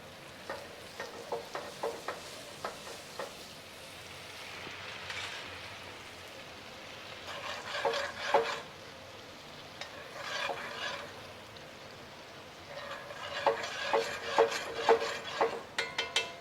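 Sherry boiling and reducing in a steak pan gives a steady bubbling sizzle, with irregular crackles and pops rising in bursts, close up and without talk.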